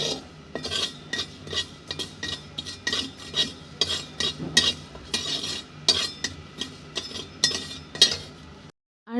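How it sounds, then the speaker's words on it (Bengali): Black cumin and green chillies being roasted in a wok, with repeated metallic scrapes and clinks of a spatula stirring against the pan in an uneven rhythm, close and clear, ending in sudden silence. "কড়াইতে কালো জিরে আর কাঁচা লঙ্কাটাকে একটু টেলে নিচ্ছিলাম"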